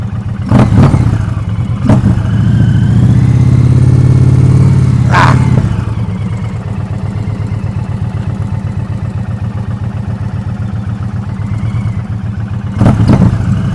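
A 2023 Indian Pursuit Elite motorcycle idling and creeping through slow speed maneuvers, a loud, close, steady low engine rumble with a mild throttle swell early on, then an even idle, with occasional wind buffeting.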